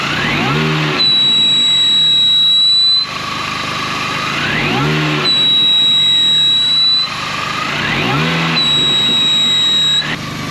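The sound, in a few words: car engine revving with horrible noise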